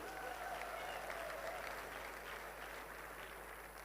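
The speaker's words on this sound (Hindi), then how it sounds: "जोरदार ताली अपने लिए।" An audience at a motivational speaking event applauds, a fairly quiet but continuous patter of many hands clapping, heard somewhat distant and without clear speech.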